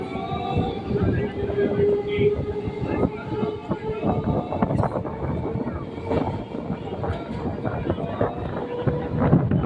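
A passenger train near Halishahar, West Bengal, rumbles past a station without stopping, with a continuous loud clatter of wheels and carriages from start to finish.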